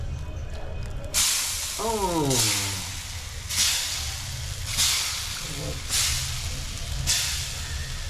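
Food sizzles in hot oil over a village cooking fire in Bengal, loud broad hissing surging in regular bursts about once a second, with a brief voice calling out partway through.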